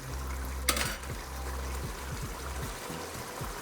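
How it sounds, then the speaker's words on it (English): Mapo tofu sauce thickened with potato flour bubbling in a pan, a soft low burble of boiling with a brief sharp clink of a utensil near the start and small popping bursts continuing throughout. "Give it a good boil."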